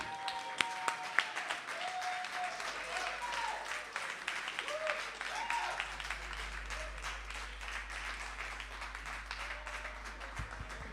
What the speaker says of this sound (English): put a round of applause for the biggest rebel I know, Luigi